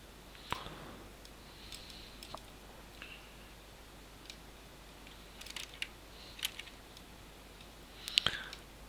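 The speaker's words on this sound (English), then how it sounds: "I'll just middle mouse click here" Sparse light clicks scattered over several seconds, a few isolated taps and a small cluster near the end, over a faint steady background hiss.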